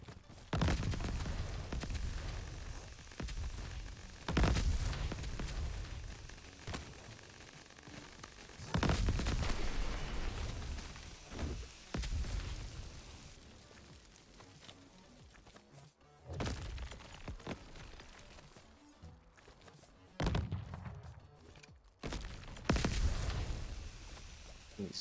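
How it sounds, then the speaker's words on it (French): Explosions in the video game Crab Champion come as repeated loud crashing, shattering bursts at irregular intervals over a continuous bed of busy game noise. "Les oreilles, j'entends que des bruits d'explosion en fait."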